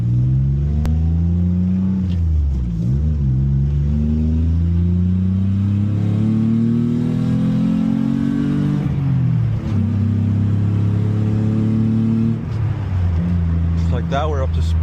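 A 1993 Ford Taurus SHO accelerates hard from inside the car, its engine loudly revving up through the gears with repeated rising pulls and brief dips at each shift, while someone talks over it.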